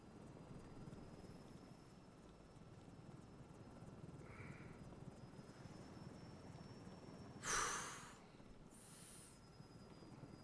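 A helicopter in a flight simulator game drones steadily with a low rotor and engine rumble, with a few brief higher warning tones and a short rushing burst partway through.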